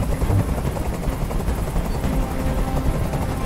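Helicopter in the video game Detroit: Become Human, a steady low rotor thrum and engine roar hovering close by, loud and continuous throughout without any voices.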